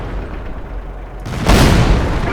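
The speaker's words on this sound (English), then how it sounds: "You can tell by the explosion." A tank shell explodes in World of Tanks, a heavy booming burst that cuts in abruptly after a quieter rumbling stretch and then lingers as a loud, rolling roar.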